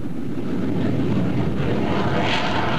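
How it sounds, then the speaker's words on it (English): Loud, continuous broadband roar of an F-4 Phantom jet aircraft, steady throughout with wind buffeting, no talking. "the distinctive roar of the F-4 Phantom has been heard around the world."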